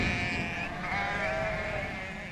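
A flock of ewes and newborn lambs bleat together in the Caucasus mountains, overlapping wavering calls filling the scene loudly and continuously with no pauses.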